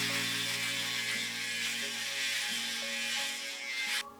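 Steady buzzing hum of an electric shaver running close up, shaving down to the skin before a hair system is attached, its pitch shifting slightly as it moves, then cutting off at the end.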